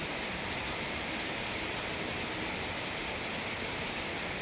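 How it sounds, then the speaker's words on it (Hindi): Steady rain falls in a dense, even hiss that fills the whole stretch with no breaks, moderately loud and close. "देखियो कमेंट करना कौन कौन से शहर में बारिश आ रही है।"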